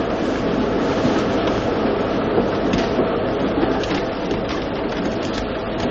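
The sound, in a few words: train running, radio drama sound effect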